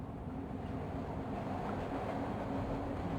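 Train sound effect in the video game Broken Sword: The Smoking Mirror, a faint, steady low rumble of a rolling train with a soft rhythmic undertone, no voices over it.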